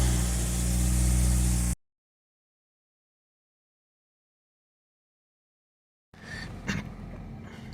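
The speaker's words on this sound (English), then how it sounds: "At operating temperature at idle, this thing's revving pretty high, 1800 RPM, too much." A 2000 Toyota Celica GTS engine idles high at 1800 RPM, a steady, close mechanical drone that lasts under two seconds before cutting to silence, followed later by quieter, scattered sounds.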